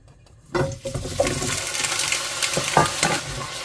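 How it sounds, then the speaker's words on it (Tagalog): Potatoes dropping into hot oil for par-frying, with a sudden burst of sizzling that continues as a steady crackle and bubbling, with occasional stirring clinks nearby. "Now we are going to fry these um, potatoes first."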